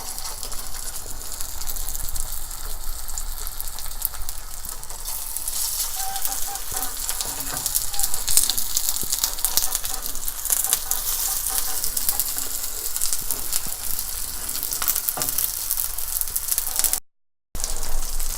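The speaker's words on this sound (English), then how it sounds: "The pan is hot now, so I am going to put the cutlets one by one." Potato cutlets frying in a hot skillet, a steady close sizzle and crackle running throughout with small clinks, no talking, with a very brief dropout near the end.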